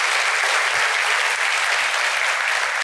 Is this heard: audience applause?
yes